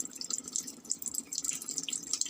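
Water trickles weakly into a coin-operated washing machine whose clogged inlet has not been cleaned, a close, uneven splashing and dripping with no talk.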